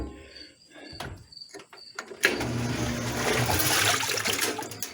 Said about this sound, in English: It pumps water.